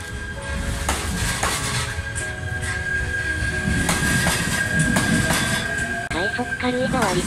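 A Shinano Railway SR1 series train, running as the rapid Karuizawa Resort service, departs from a station with a steady electric motor hum, rhythmic wheel clatter and rising squealing tones, loud and close.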